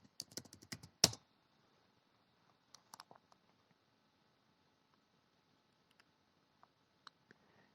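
Keys on a computer keyboard are tapped while a command prompt is used: a quick burst of clicks and one sharp louder strike, then sparse, faint single taps spread over several seconds.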